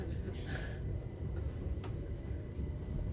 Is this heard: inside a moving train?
yes